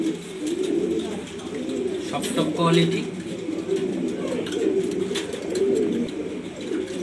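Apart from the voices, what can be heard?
grizzle blue racer pigeons cooing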